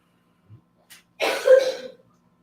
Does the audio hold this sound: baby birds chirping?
no